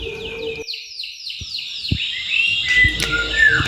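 A canary sings close by in a quick series of bright, sweeping chirps and trills that run together into a continuous warbling phrase.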